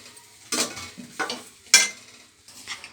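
Carrot, cabbage and egg fried rice stirred in a pan, with a few separate loud scraping bursts of the utensil against the metal over a soft sizzle, nearby and with no talking.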